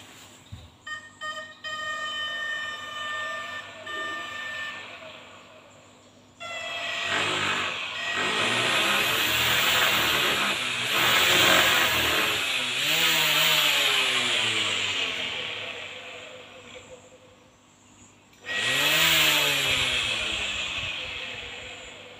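A homemade battery grass trimmer built from a DC 775 motor clicks, then whines up to a loud, high motor scream that rises and falls in pitch with several bursts of speed, cutting off and restarting near the end.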